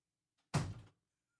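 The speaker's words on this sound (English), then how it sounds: "Close my door." A single door shuts with one soft thunk close by, a brief muffled thud set in otherwise near-silent room quiet.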